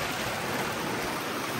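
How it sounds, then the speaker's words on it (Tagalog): Heavy rain pouring down as a dense, even hiss that stays at the same level for the whole short stretch, with no talk. "Super ulan na."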